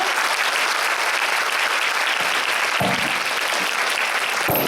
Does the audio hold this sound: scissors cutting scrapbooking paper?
no